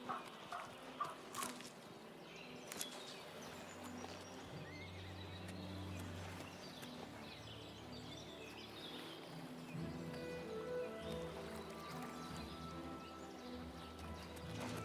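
A horse in the video game The Elder Scrolls IV: Oblivion Remastered whinnies and its hooves clop faintly, mixed with ambient outdoor game sounds and birds, quiet and continuous throughout.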